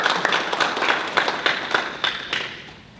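An audience at a panel event on Black politics applauds a panelist: a modest round of clapping, moderately close, with individual claps standing out and slowly fading over three seconds.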